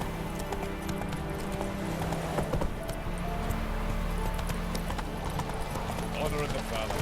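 Hooves of the horse Roach clip-clopping at a steady gait in The Witcher 3, close and continuous beneath game ambience and occasional speech.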